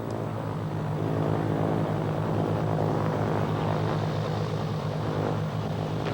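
Small airplane in flight, its propeller engine droning in a steady, even hum with a low buzzing throb, constant and moderately loud, heard from inside or nearby with no talk.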